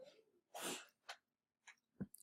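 A single sharp sneeze bursts out, preceded by a short breathy intake, with a few faint breaths and small mouth noises afterward in a quiet room.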